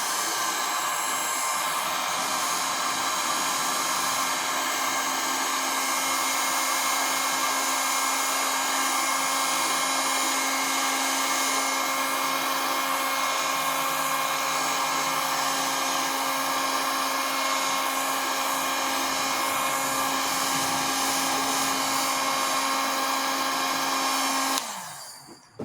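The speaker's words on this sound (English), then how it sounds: "Now use your heat gun" A heat gun blows a steady, loud whirring rush of hot air onto a part from a Volvo XC90 B4204T35 cylinder head being rebuilt, running unbroken for about twenty-five seconds before it cuts off.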